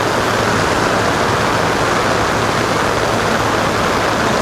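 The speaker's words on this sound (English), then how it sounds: "3, maybe 4 of those smaller streams running into a major one" Flooded streams on Mount Wolvi pour into a larger stream, a loud, dense, unbroken rush of water close by with no other sounds.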